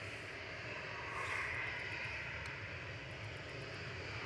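A Ryanair jet departs quickly from Manchester Airport toward Brussels Charleroi, a sustained engine roar swelling slightly near the middle, heard alone without talk.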